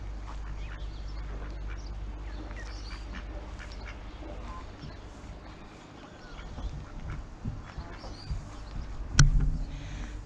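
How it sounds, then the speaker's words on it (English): Ducks quack softly and intermittently in the distance over a steady low outdoor rumble, with a brief sharper sound near the end. "Let's leave the ducks sleep."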